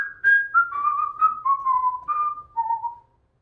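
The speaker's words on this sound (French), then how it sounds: "Il y avait quelqu'un qui était en train de siffler en arrière de lui." A person whistles a short descending tune of about eight notes, clear and close, ending in silence.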